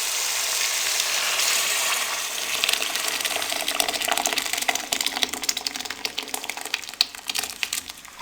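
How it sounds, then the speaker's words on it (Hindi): Hot tempering (baghar) is poured into boiled mixed dal for a dhaba-style dish, bursting into a loud, close sizzle that crackles and spatters steadily with no talk. "अब इसका हम बघार लगाएंगे।"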